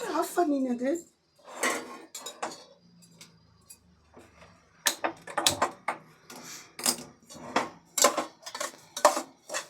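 A spoon scrapes and clinks against a metal pressure cooker as semolina is stirred with ghee, in quick repeated taps and scrapes, heard alone between stretches of speech.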